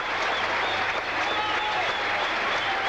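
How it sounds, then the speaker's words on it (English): A cricket crowd at a 1982 England versus Sri Lanka Test match applauds a boundary with sustained clapping from a large stadium audience. A steady low hum sits underneath the applause. "3 consecutive boundaries of Ian Botham, who himself cannot help but applaud"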